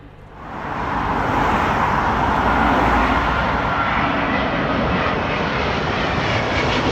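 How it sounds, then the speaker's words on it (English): A Malaysian Airlines Airbus A350 arriving at London Heathrow from Kuala Lumpur, its engine roar swelling quickly in the first second and then holding loud and steady, with no talk. "Malaysian Airlines, their Airbus A350, coming in from Kuala Lumpur"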